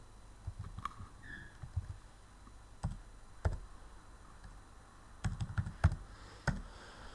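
Keys on a computer keyboard are tapped in short scattered clusters, faint and close in a quiet room, with no talk.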